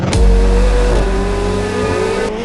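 A McLaren 750S supercar engine revs hard and close, a loud sustained mechanical roar with a sharp throttle blip at the start, steady engine tone through the middle and a brief dip near the end.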